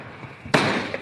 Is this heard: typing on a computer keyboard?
no